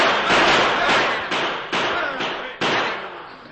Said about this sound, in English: It was met by a volley of gunfire